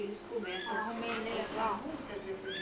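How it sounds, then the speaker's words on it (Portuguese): Kittens meowing close by in a series of short, rising cries, mixed with a person talking throughout. "Tô filmando aqui os gatinhos, tá andando."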